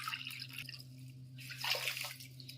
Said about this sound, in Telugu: ఇప్పుడు 1 కప్పు నీళ్ళు వేసుకుందాం.